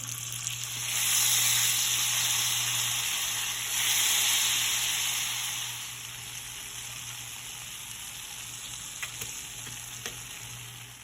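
Butter melting in a pan over medium heat for gravy, a steady bright sizzle with a low hum underneath, swelling in two waves before easing to a quieter, even frying hiss.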